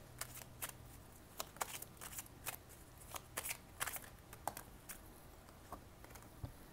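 Tarot cards are drawn and shuffled by hand, a faint run of soft, irregular flicks and slaps close by in a quiet room.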